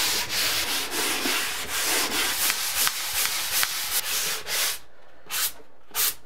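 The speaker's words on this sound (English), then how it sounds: "I am going to use the sanding pole on the ceiling" A sanding pole scrubs across a ceiling in a stairwell storage area under renovation, a close, loud rhythmic rasp of back-and-forth strokes that breaks into separate swipes with short pauses near the end.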